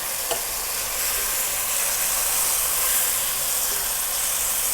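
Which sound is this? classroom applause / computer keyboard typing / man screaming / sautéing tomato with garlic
sautéing tomato with garlic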